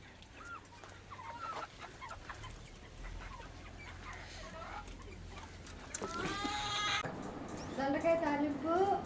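Backyard village hens and a rooster clucking and calling at close range, with a denser, louder burst of fowl calls near the end, over people talking and ambient noise.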